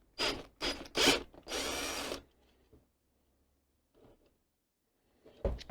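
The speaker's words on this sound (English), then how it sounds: "let's get the 7mm drill, open these up" A power drill with a 7mm bit opening up holes, several short loud whirring bursts followed by quiet pauses and faint handling clicks, close by.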